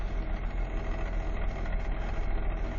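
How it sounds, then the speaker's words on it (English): A 1974 AMC Gremlin with a 258 inline six idles steadily after a cold start, a continuous close, even engine rumble with slight ticking and no talk. "You can hear a little bit of a ticking. And that's just because, well, it's an old engine."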